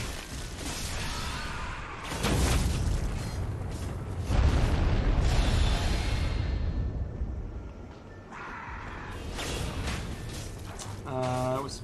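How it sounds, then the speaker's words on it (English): Explosion arrow blasts in Elden Ring, heavy booming bursts landing around 2 and 4.5 seconds with rumbling tails, amid continuous game noise and voices talking throughout. "It was supposed to be the explosion arrow."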